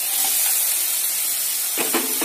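Onion with garlic-ginger paste frying in a pan for Kashmiri dum aloo, a steady soft sizzle and hiss throughout, with a few stirring scrapes near the end.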